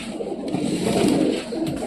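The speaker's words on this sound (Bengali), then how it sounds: "কবুতরগুলো ছেড়ে আপনাদেরকে আমি দেখাচ্ছি" Pigeons released from their coop on a rooftop coo and burble nearby in a steady, murmuring stream, with faint rustling of movement and no speech.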